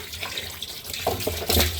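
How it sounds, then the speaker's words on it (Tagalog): Tap water running into a container holding jumbo frogs, a steady close splashing flow that grows slightly louder. "Lagyan muna natin ng tubig para"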